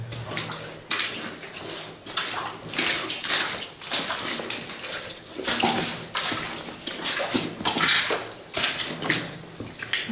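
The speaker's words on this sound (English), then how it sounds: "you've got the water running down here, right down the side, most of the way" Water runs down the side of an old tunnel wall, a steady, close splashing and trickling with irregular surges throughout.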